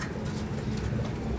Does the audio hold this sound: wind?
no